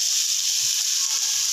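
Chopped tomato drops into sizzling eggless omelette batter made from maida in a hot pan, giving a steady, close frying hiss with faint stirring underneath.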